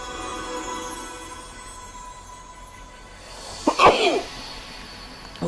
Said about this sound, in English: Oh, I have got the sneezes today